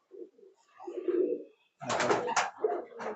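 Pigeons in a loft of high-flying birds coo in low, throaty bursts close by, followed by louder, busier fluttering and calls, with no talk.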